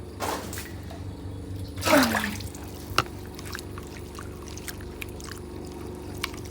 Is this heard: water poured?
yes